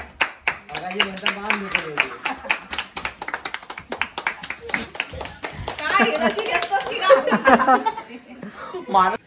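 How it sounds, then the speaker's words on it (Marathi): Rhythmic hand clapping at a traditional Konkan Gauri puja celebration, quick sharp claps for several seconds mixed with laughter and lively voices nearby. "टाळ्या टाळ्या."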